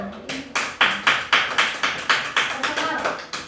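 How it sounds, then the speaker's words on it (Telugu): Children clap together in a classroom, about a dozen sharp rhythmic claps in a steady beat, with voices faintly underneath. "ఒకసారి క్లాప్స్ కొట్టండి మరి మీరు"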